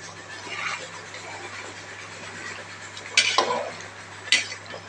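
A spoon scrapes and clinks against a pot of thin khichuri cooked with chicken, two short sharp metallic knocks standing out over a steady low kitchen hum.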